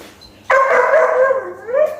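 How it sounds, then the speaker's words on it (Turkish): A dog bursts into a drawn-out, howling bark up close, one long yowling call that dips and rises again before trailing off. "Artık nasıl havlamaya başladı değil mi?"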